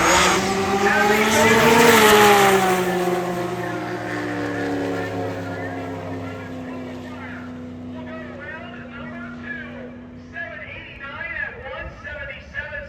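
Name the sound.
drag racing street cars, 2001 Camaro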